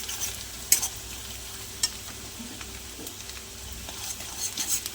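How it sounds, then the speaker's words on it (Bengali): Chopped ginger sizzles in hot oil in a pan while being cooked for soya chilli. A steady frying hiss runs underneath, broken by a few sharp clinks of a spatula stirring against the pan. "এটা একটু ভেজে নেবো ভালো করে"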